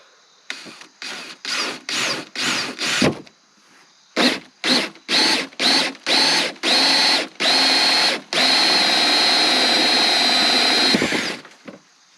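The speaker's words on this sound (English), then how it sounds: "I'm just going to carefully as possible line up our drill bit" A power drill whirs in short repeated bursts, a pause, another series of bursts, then one long continuous run drilling a hole in a spring development box, loud and close.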